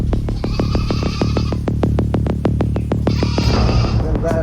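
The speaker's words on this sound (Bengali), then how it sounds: "বড় জাতের ছাগল।" A large-breed goat gives a loud, close, quavering bleat, its voice pulsing in a rapid, regular tremble for several seconds.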